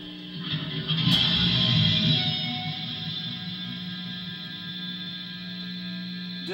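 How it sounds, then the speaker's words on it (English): An electric guitar run through delay, reverb and flanger effects rings out as a single sustained chord that swells and then slowly decays with a shimmering, echoing tail, alone and fairly loud. "Delay one and reverb two are on with the flanger."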